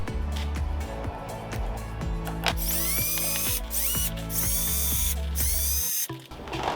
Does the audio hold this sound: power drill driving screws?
yes